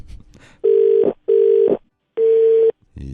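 A telephone ringing three times in steady bursts, each a clear electronic tone with short silences between, loud and close.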